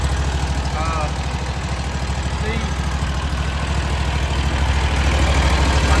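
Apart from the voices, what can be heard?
new hydroseeder engine running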